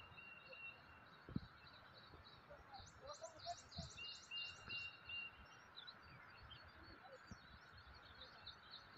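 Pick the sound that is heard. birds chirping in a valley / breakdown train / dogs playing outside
birds chirping in a valley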